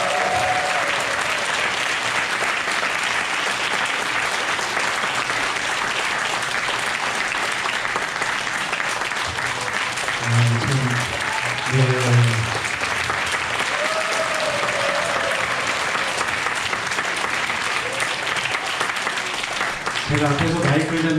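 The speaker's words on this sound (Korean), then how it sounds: "감사와 또 응원과 격려의 박수 같이 한번 드리겠습니다" Sustained audience applause in a church setting after a violin performance, steady and dense for the whole stretch, with brief voices and a short musical tone rising through it near the middle and end.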